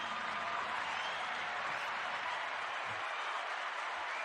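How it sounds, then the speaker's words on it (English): A studio audience breaks into steady, dense applause to welcome comedian Chris Monds, sustained and fairly loud throughout with no talking over it. "Everybody, please let's give a round of applause for the one and the only Chris Monds."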